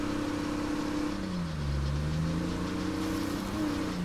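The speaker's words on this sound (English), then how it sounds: "You hear the engine rattling a little more than it was." Steady low engine drone of a vehicle in State of Decay 2 with a rough, rattling undertone, rising and falling slightly in pitch, fairly quiet and continuous with no talk.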